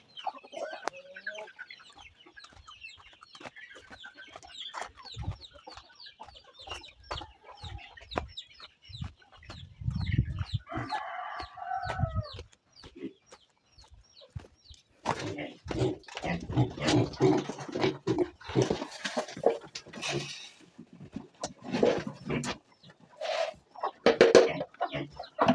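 Chickens and their chicks cluck and peep nearby after being fed. Repeated hen clucks mix with thin, high chick cheeps and some scratching and bustling in the yard, growing busier toward the end.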